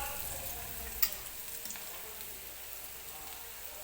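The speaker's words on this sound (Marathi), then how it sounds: "कांदा आपल्याला हलकासा मऊ होईपर्यंत भाजून घ्यायचा आहे तेलामध्ये" Onions soften in oil for matar paneer, giving a faint, even frying hiss with one brief knock of a utensil early on, quiet and unbroken by any voice.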